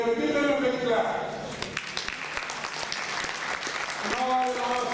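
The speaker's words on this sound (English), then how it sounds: "So, Abbas, Raju, and David, give them a big clap" Applause from guests at the Third World Solidarity 35th annual dinner in London, an awards event. A burst of clapping rises from the room between spoken announcements, with a voice heard before and after it.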